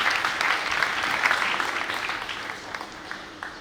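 An audience at a religious discourse claps steadily for several seconds, a dense wash of applause that slowly thins.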